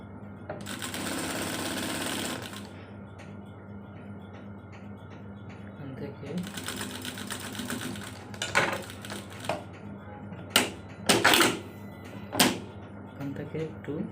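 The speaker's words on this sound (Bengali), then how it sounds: "সুন্দর করে ধরে, খুব ভালো করে ধরে সেলাই করে নিতে হবে।" Fabric being stitched on a sewing machine, two sustained bursts of whirring motor run near the start and middle, followed by short knocks and clatters of handling.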